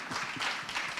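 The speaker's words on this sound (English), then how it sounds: "Please give him a round of applause again" An audience applauding at the Africa Business Summit socio-cultural panel, a short burst of steady, dense clapping at moderate volume.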